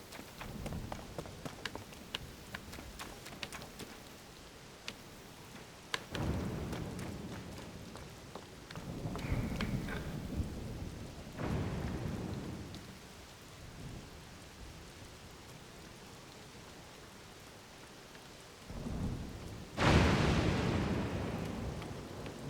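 A thunderstorm in Zelda: Tears of the Kingdom, with steady rain hissing throughout and several deep rolling thunder rumbles swelling and fading, the last one close and loud, with no talking.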